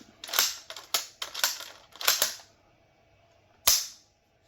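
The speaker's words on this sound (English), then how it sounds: "But the action of this bolt is still very smooth." A surplus bolt-action rifle's bolt is worked by hand, making a quick run of sharp metallic clacks and slides, then a pause and one more crisp snap, close and fairly loud.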